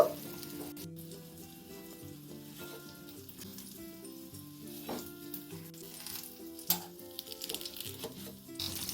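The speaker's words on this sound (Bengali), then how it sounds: "বেগুনের দুপিটটাই আমি লাল করে ভেজে নিলাম" Brinjal pieces fry in hot oil with a steady sizzle throughout, joined by soft background music with sustained tones and a few brief clatters near the end.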